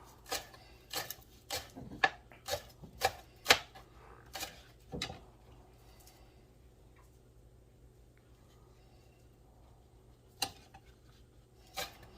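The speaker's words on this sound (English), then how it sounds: "I'm just chopping up some green onion" Sharp knife chops through green onion on a cutting board, about a dozen quick irregular strikes over several seconds, a pause of near silence, then two more cuts.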